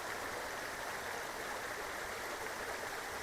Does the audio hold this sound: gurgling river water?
yes